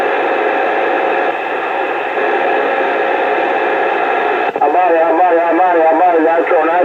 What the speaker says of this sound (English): if I put it on, it's just gonna bring up my white noise